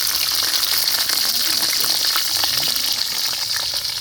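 Green chilies and onion sizzle in hot oil in a wok with bay leaf, cumin, cinnamon and cardamom, a dense, steady hiss filling the whole stretch close up.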